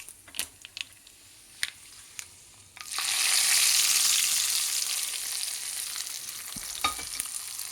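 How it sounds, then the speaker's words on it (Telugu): Hot fried tempering poured into an ivy gourd curry: after a few soft stirring clicks, a sudden loud hissing sizzle erupts and then slowly settles into a steady crackle, with scattered utensil taps. "పోపు వేగింది, ఈ పోపు ఇందులో వేసేసుకుందాం."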